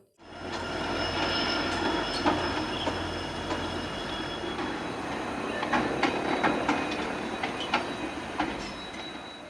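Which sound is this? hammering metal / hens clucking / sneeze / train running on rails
train running on rails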